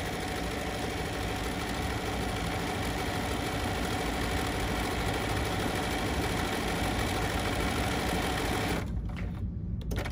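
Bernina sewing machine running steadily while satin stitching over cording, a continuous mechanical whir with rapid needle chatter that cuts off near the end.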